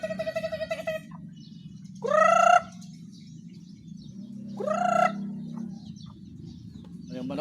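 Chickens cluck and call in short bursts, with a rapid rhythmic clucking at the start and two louder squawks, over a low background hum.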